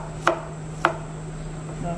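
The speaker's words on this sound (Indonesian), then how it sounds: "Hiris potong kecil-kecil ya." A knife cuts garlic into small pieces on a board, two distinct close chops about half a second apart over a faint steady hum.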